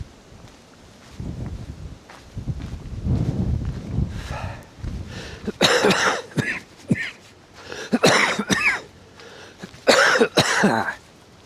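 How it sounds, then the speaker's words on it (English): A person sitting in a car on a cold day by the bay coughs repeatedly, starting with low muffled throat-clearing and moving into several harsh, close coughs in bursts with short pauses between them. "Don't worry about the cough."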